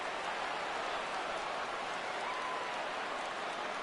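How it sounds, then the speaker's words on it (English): A baseball stadium crowd in a PS4 game roars steadily at a full count, a dense, even wash of cheering and applause with no clear breaks. "Crowd gets up for the 3-2."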